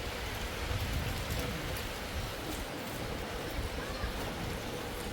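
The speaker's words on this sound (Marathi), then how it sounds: "बाहेर मस्त पावसाचं वातावरण झालेलं आहे पाऊसच पडतो बघू शकता" Steady rain falls outside in monsoon weather, making a dense, even hiss that stays constant throughout without pause.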